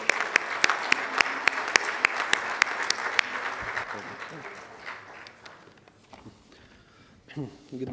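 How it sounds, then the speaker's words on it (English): An audience at an international conference day session applauds with sharp, evenly spaced claps standing out over a broad wash of clapping, which thins and fades over several seconds into quiet room noise. "welcome him with a big round of applause"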